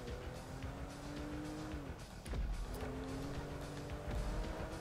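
A car in GTA V races along with engine revving and pitch sweeps, then tires squeal sharply mid-way, all game audio without talk.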